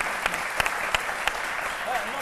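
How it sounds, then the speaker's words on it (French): A studio audience on a French-language midday TV show claps steadily, a dense patter of many hands with a few sharper claps standing out, while a voice murmurs underneath. "on va l'applaudir"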